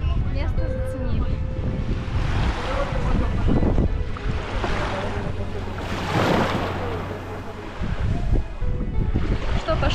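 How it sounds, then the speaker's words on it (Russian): Sea waves washing onto a quiet beach in Palermo, Sicily, a steady broad surf wash with wind buffeting the microphone, while people talk nearby. "Чистое, прекрасное море."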